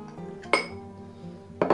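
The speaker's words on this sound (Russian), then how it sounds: "берите кружку и в кружке мешайте" A spoon clinks against a glass or mug while vanillin bait mixture for winter fishing is stirred, giving two sharp close clinks over faint low background rumble, with no speech.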